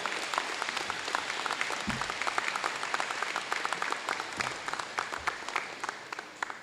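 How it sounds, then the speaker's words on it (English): A crowd at a school scholars' celebration claps for the staff, a sustained, even round of many hands with close individual claps audible in the mix. "let's clap for all of our wonderful staff"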